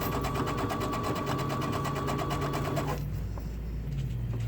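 A sewing machine stitches a welder cap band in a steady, rapid mechanical run that is loud and close, then cuts off abruptly partway through, leaving only faint room noise.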